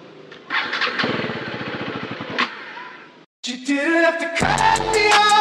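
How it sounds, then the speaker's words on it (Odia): A motorbike left unused for two or three days cranks and sputters but fails to catch, repeated attempts of mechanical churning up close, broken by a brief silence, with voices talking over the later tries. "ଗାଡ଼ି ଷ୍ଟାର୍ଟ ହଉନି 2-3 ଦିନ ହେଲାଣି ଷ୍ଟାର୍ଟ କରିନଥିଲି ଗାଡି ଥୁଆ ହେଇଥିଲା ଷ୍ଟାର୍ଟ ହଉନି"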